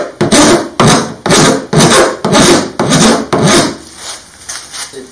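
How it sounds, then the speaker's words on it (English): Sandpaper rubbing along a Formica laminate edge in a woodshop, heard as six or seven steady rasping back-and-forth strokes, loud and close, that fade to lighter scraping at the end. "finally go over with some sandpaper again"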